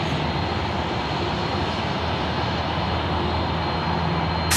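A China Southern jet airliner departs Sydney airport, its engines a steady, loud broadband roar holding at a constant level throughout, with no talk.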